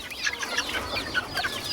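Several grown chickens cluck and chatter softly close by, overlapping short calls in a busy, continuous flock murmur.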